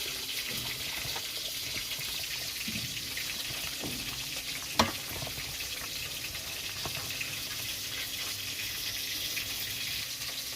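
Drumstick stems and potatoes are worked together by hand for a steamed prawn dish, giving a soft, steady wet squish with one sharp click midway, all fairly quiet.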